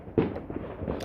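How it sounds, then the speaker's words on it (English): Fireworks bursting during a UK Bonfire Night celebration: one strong bang followed by several softer, distant pops and rumbles in under a second. "Wow, fireworks going off all around you."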